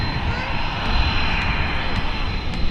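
Jet aircraft engines run steadily at Manchester Airport, a continuous loud roar and whine with no breaks, while a voice is faintly present under the engine noise.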